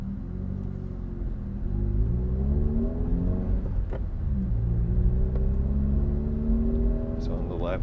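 City traffic on Broadway in Denver, Colorado: a steady low engine rumble from nearby cars idling and moving, with rising revs and a constant close whir and no clear speech.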